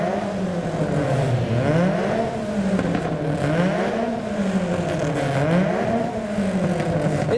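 A car likened to a Honda Civic revs its engine repeatedly in a car park, the engine note rising and falling in smooth swells, loud and fairly close, with no talk over it.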